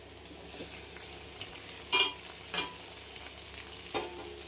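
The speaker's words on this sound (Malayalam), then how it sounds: "അതും കൂടെ ചേർത്തിട്ട് നന്നായിട്ടൊന്ന് ഇളക്കി കൊടുക്കാം. ഉള്ളി ഒന്ന് വഴന്നു വരണം." Three chopped onions sautéing in a pan with a low steady sizzle, punctuated by three distinct scraping stirs of a spatula against the metal.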